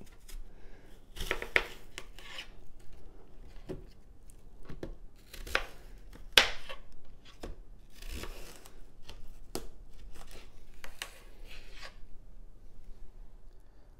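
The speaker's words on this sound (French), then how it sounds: "Nos 5 pommes sont maintenant bien épluchées, on va venir les découper en quartiers." Peeled apples cut into quarters with a knife on a board, a quiet, intermittent series of sharp slicing and chopping strokes with pauses between cuts.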